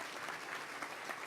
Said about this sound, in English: Another round of applause for my co-hosts, Lauren and Blake Fowler